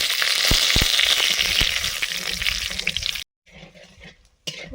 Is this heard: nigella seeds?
yes